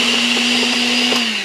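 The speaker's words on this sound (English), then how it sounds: "We gotta help this blender out." A blender whirs steadily, blending ripe avocado with cream for a quick dinner, a loud, close, continuous motor drone with faint knocks from the contents.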